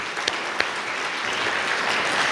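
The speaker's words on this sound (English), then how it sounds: "Another round of applause for Lee" Sustained audience applause at a museum talk on the Revolution, dense steady clapping filling the room with a couple of sharper claps near the start, no voices over it.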